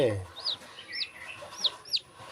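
Peru chicks give four thin, high cheeps at a steady pace, after a brief low cluck at the start, close and fairly quiet.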